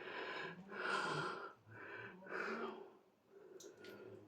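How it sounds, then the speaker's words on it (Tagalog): Heavy, rhythmic panting breaths come from someone exploring inside a large cave, each deep inhale and exhale close and breathy, repeating in slow waves. "So kung marinig nyo, hingal na tayo."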